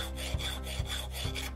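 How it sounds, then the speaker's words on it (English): A file rasps against the metal of a rusty hatchet head, rounding its sharp edges in rhythmic back-and-forth strokes, about three steady passes with a faint thump at each turn, close and clear. "The sharp edges needed to be rounded with a file."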